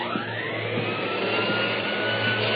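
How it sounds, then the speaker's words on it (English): A vacuum cleaner runs in a hotel lobby in an old radio drama, a steady, loud, unbroken motor whine and airy roar that holds at the same level throughout, with no voices over it. "The clerk was just starting to vacuum."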